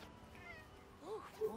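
A cat in the Spider-Man: Miles Morales video game gives a couple of short, rising meows near the end after a quiet stretch of faint background sound, with soft talk underneath.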